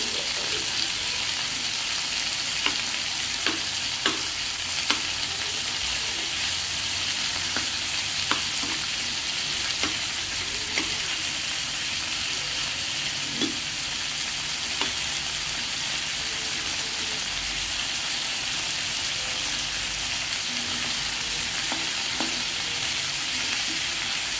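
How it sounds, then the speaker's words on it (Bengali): Rupchanda (pomfret) fish frying in a pan in a home kitchen, a steady dense sizzle running throughout with occasional small pops and crackles, moderately loud and close, with no talking. "মাছগুলো ভাজা হোক"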